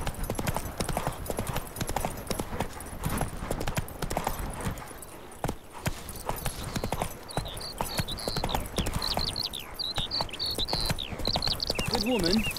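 Horse hooves clip-clop at a steady trot in the video game The Witcher 3, with a rider urging the horse on, then a quieter stretch with birdsong chirps over the ongoing hoofbeats.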